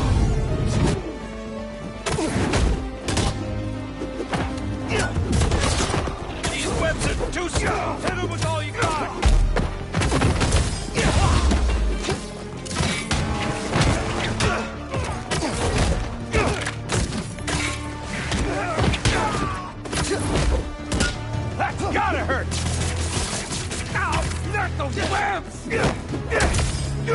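Fireworks going off in the Spider-Man 2 video game, a dense stream of thumping bursts and crackling blasts over game music and effects, with a character's voice shouting amid the din.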